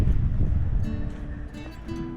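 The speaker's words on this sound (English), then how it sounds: "Wind's blowing across that metal." Wind blows across metal on the Homestead Trail near Bald Knob, a mountain in Jefferson National Forest, Virginia. A steady, gusty rush carries faint humming tones that rise and fade, with no voices.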